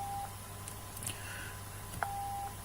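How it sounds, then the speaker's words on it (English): Computer beeping when triggered by PowerShell code, two short clean electronic tones, the second held slightly longer, quiet and alone with faint clicks between. "we can get this code which will make your computer make a beep"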